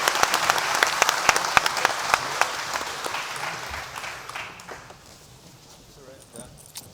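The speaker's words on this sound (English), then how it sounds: "Please help me to give our speakers a round of applause to thank them for their insights." An opening-session audience gives the speakers a round of applause: distinct individual claps over a dense clapping wash that gradually thins and fades, with scattered claps trailing off near the end.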